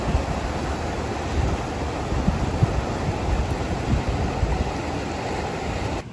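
Steady broadband rushing of a flowing river, continuous and fairly close, with no voices and no breaks in the wash of sound.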